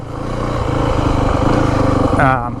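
A 2025 Yamaha WR450F dirt bike engine runs steadily up close, a dense continuous drone that swells briefly near the end as the revs rise; someone talks over it.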